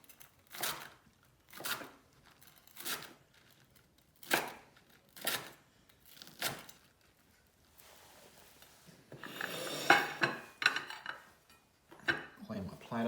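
A sharp knife scrapes crusty egg bits off a plate in a series of distinct, evenly spaced strokes, then turns into quicker, rougher scratching near the end.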